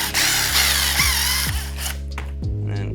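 A power tool with an 8mm socket backs out bolts on a 420cc Predator engine, a loud whirring drive broken by short pulses about every half second, with no talk.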